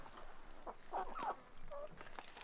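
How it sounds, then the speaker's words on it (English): Several chickens cluck and chatter close by, short squawky calls overlapping in a busy, excited flurry. "Meet our chickens."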